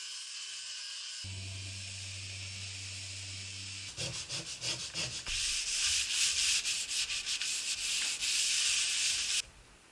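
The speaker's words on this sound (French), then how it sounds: "On peut ensuite passer au ponçage des surfaces à l'aide de ponceuses, meuleuses et évidemment ponçage à la main." Sailboat deck surfaces sanded ahead of a KiwiGrip non-slip coating on a Kelt 39, with a steady tonal power-sander whine giving way to loud, rhythmic abrasive rubbing strokes close by.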